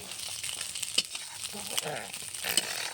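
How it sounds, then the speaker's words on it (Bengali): Pieces of fish fry in hot oil, a steady close sizzle with light stirring clicks and small pops throughout, no voices. "এই যে মাছটা আমার সুন্দরভাবে ভাজা হয়ে গেছে"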